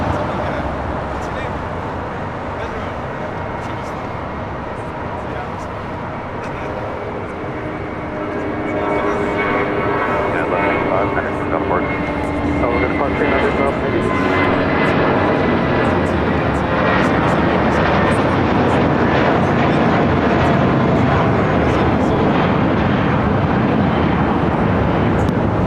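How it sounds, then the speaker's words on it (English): A United Airlines airliner taking off at LAX, a loud broad roar that swells after several seconds and holds steady, with voices talking faintly underneath. "That was United Airlines flight 1185 heading to Cabo"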